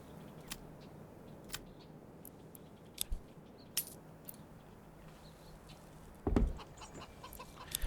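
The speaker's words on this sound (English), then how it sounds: "Oh, I started to get chickens in." Chickens in the village-building game Manor Lords give a few faint clucks among scattered clicks and short taps, then a brief louder burst near the end.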